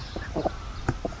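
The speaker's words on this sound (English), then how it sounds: "I never thought I would be petting a baby raven." A baby raven gives a few soft, short croaking calls while being petted up close at a birds of prey centre, the calls spaced irregularly over a low background hum.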